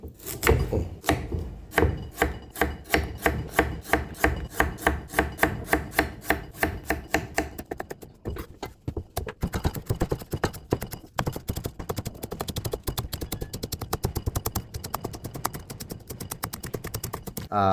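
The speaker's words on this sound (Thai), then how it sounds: "ก่อนอื่นเราต้องมาหั่นของก่อนนะครับผม" Knife chopping shallots, garlic and kaffir lime leaves for a Thai herbal baked catfish dish: close, rapid rhythmic strikes on a board, evenly spaced at first, then quicker and denser.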